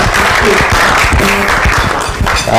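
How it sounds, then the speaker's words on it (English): An audience at a book launch breaks into a short burst of loud, close applause, dense clapping filling the room with a murmur of voices under it. "Let's give him a round of applause as he makes his way up"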